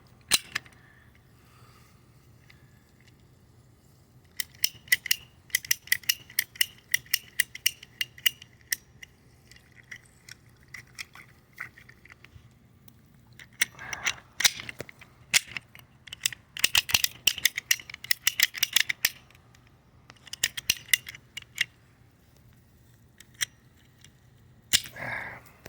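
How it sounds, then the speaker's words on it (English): Cutters work through a leaking garden hose, giving rapid, close clicking and crunching snips in irregular bursts with quiet pauses between them. "I'm going to take these cutters and I'm going to cut this piece out"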